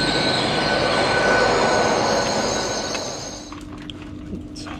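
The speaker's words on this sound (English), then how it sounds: "So, we'll get this train to Hanborough." A train rumbles loudly along the rails with a high metallic whine, then the noise fades as the train slows, leaving quieter clatter.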